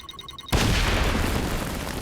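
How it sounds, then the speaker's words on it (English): A heavy explosion booms in the video game XCOM Chimera Squad, a sudden loud blast that cuts in after a brief electronic beeping and then rumbles on as a broad, sustained roar. "That explosion probably would have hit her."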